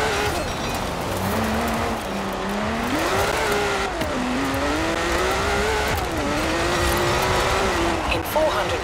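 Car driven in the Forza Horizon 4 racing game on Xbox One X, its engine revving up and down through the gears with faint tire squeal, loud and close, with talk over it.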